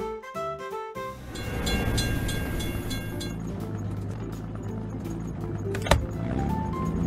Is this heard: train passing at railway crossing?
yes